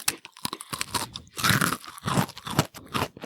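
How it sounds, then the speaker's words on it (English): Crisp bites and chewing on a thin, crunchy Italian pizzelle waffle cookie, made in a home pizzelle press: several sharp crunches in clustered bursts, close and fairly loud, with no talking. "Good crunch there."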